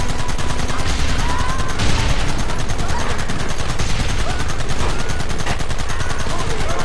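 Dense, loud gunfire in Red Dead Redemption, rapid shots overlapping continuously in a sustained battle with shouting voices mixed in.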